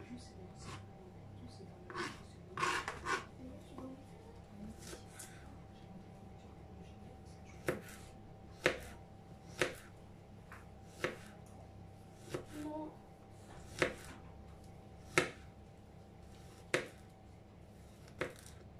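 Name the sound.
chopping garlic with a knife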